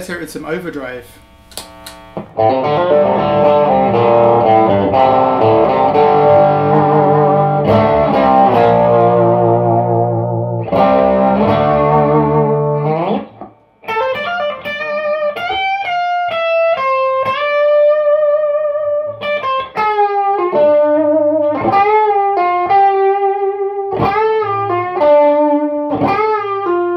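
Overdriven electric guitar, a double-cut Danocaster, plays thick sustained distorted chords up close, then moves into a singing single-note lead line with bends and repeated phrases.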